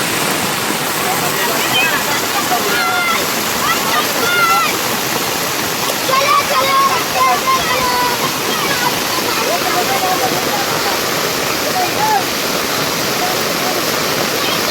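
Floodwater rushing through a village stream in heavy monsoon rain in the Konkan, a loud, steady, close roar of churning water that never lets up, with faint voices now and then.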